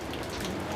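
Rain falls steadily in a mountain village, a dense, even patter on surfaces, close and continuous with no voices.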